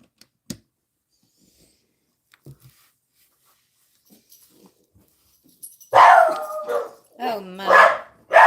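A dog inside a lodge barks and howls loudly and close by, in a few drawn-out bursts that follow a mostly quiet stretch with faint knocks.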